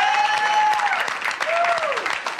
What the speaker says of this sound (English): Keep applauding for yourselves if you think I'm right.